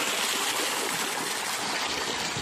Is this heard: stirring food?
no